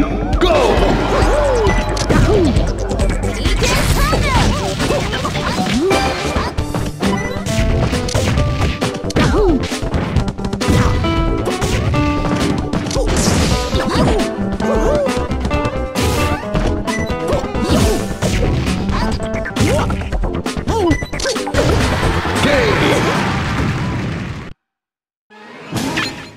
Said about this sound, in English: Break the targets!